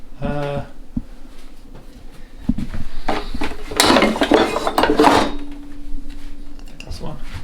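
Pots and lids clatter and bang while someone digs through a kitchen drawer hunting for a lid, loud and close with metallic clinks and rattling, and a person talks in between.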